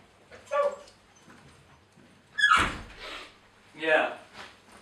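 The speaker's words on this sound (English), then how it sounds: "Ruby, why are you barking at Rigby?" A dog barks indoors during a casual podcast recording, giving a few sharp separate barks at a close range with quiet gaps and faint background movement between them.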